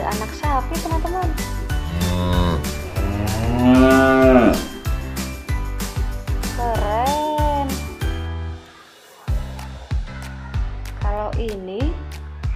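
A toy calf gives several loud electronic moos, mixed with other toy animal calls and a person talking over them, in a close indoor setting.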